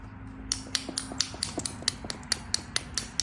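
Georgia jasper being flint-knapped, a steady run of sharp, close ticking taps and light strikes at a brisk, fairly regular rhythm as flakes are worked off the stone's edge.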